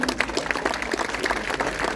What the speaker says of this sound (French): C'est moi qui vous applaudis, parce que vous êtes remarquables